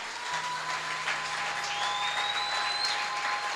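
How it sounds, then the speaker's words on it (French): A church congregation applauds to acclaim the Lord during a worship service, a light, steady patter of clapping from only a few people, spread evenly and fairly close, with faint tonal sounds behind it. "Il y a eu seulement 3 ou 4 personnes qui ont acclamé."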